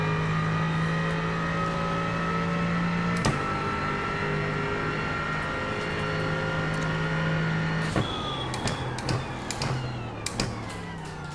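Aston Martin V8 race car in the iRacing sim, its steady engine drone holding under load with a couple of abrupt shift breaks and more uneven revving near the end.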